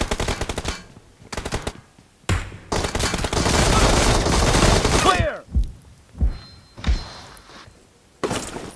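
Bursts of rapid gunfire from the mobile battle-royale game PUBG Mobile: short volleys, then a long sustained automatic burst, followed by a few separate thuds, loud and close, with voices talking now and then.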